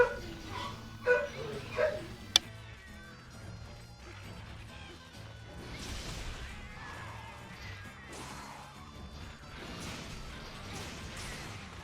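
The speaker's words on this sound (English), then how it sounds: "No reason to bark" A dog named Zoe barks at a mailman in a few sharp, loud yaps near the start, followed by lower whimpers and household noise.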